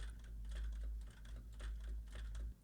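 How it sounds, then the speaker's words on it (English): Steady clatter of computer keystrokes runs throughout, captured through a Fifine K688CT USB microphone on a desk, with clustered bursts of clicks over a constant low hum and no voice. "while I'm typing on my keyboard in the background"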